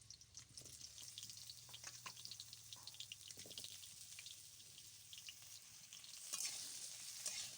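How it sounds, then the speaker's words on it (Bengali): Potatoes frying in hot mustard oil in a wok, with a continuous bright sizzle and crackle, occasional stirring scrapes, and a louder burst of spitting near the end. "তেলটা গরম হয়ে গেছে, এবারে আমি আলুগুলো কড়াইয়ের মধ্যে দিয়ে দিচ্ছি।"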